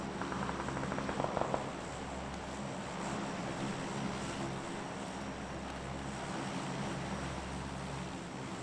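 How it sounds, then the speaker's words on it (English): Low, steady engine drone of a slow-flying airplane in the PUBG video game, a continuous hum held through the whole stretch with a brief burst of brighter noise near the start. "Wow, that plane is going really slowly."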